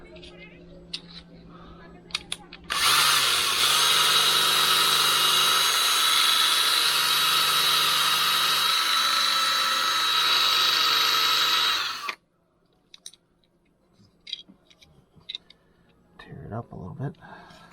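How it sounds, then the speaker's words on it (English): A power drill runs in one continuous high whine for about nine seconds while drilling holes in a 3D printer frame, starting and stopping abruptly, with someone talking quietly before and after. "So I got my drill."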